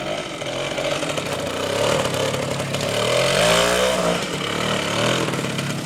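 A DKW RT 125 motorcycle ridden off-road, its small single-cylinder two-stroke engine buzzing and revving up and down, rising in pitch mid-way, fairly close and loud throughout.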